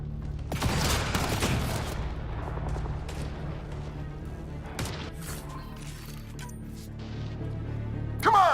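Enemy gunfire rattles in Mass Effect: Andromeda: a loud, close burst of shots and crashing impacts opens, followed by scattered sharper shots and hits, with a final loud crack at the end.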